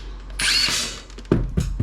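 A power screwdriver briefly whirs a screw out of a Lenovo laptop dock, a short close buzz followed by a few small clicks and clatter.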